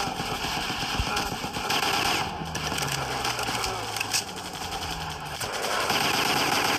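Machine gun fire in the Commando video game, a dense continuous rattle of rapid automatic bursts lasting the whole stretch, loud and close against a busy game soundscape.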